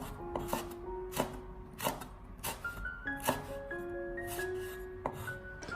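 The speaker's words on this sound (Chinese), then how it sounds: "将辣椒把去掉以后，将它直接的斜刀切成马蹄片" A kitchen knife slices small bird's-eye chilies on the bias on a cutting board, giving several distinct chopping taps in an uneven rhythm, close and clear over faint background hum, with no talk.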